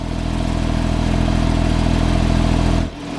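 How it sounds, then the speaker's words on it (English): A Porsche 992.2 GT3 Weissach's exhaust runs at a steady, rowdy idle, a loud continuous rumble close by that dips slightly just before the end. "you guys can probably hear the exhaust"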